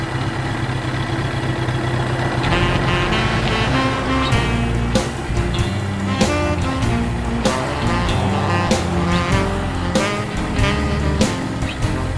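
A motorcycle rides along a road near the intersection of 104th and 135th in Palos Park, southwest of Chicago, its engine a steady, loud, close drone throughout with repeated sharper bursts and clatter layered on top.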